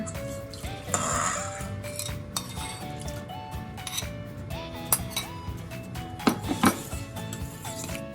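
Utensils clink against a bowl in quick, irregular taps while eggs are mixed, with a faint background tone underneath.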